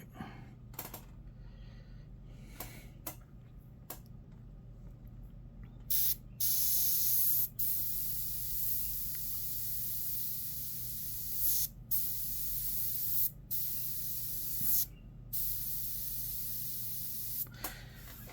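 A spray paint can hisses onto a demon skull prop in short, close bursts of varying length, with brief pauses between sprays.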